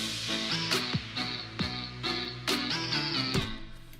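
Festival trap drop built in Ableton Live 9 with a vocal sample, heavy pulsing bass hits and bright synth chords, punctuated by sharp descending sweeps, loud and dense with no speech.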